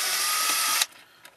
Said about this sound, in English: I'm going to use my drill, but you can use a handheld.